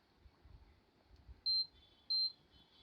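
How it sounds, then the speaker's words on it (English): Two short, loud electronic beeps from the SMPS buzzer on an induction cooker's circuit board under repair, sounding alone over faint background hiss. "The SMPS is working because the buzzer is making noise."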